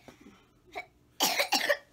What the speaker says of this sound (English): This cough you got, girl.